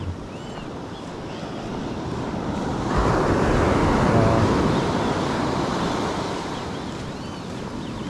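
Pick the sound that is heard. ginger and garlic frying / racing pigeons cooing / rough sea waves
rough sea waves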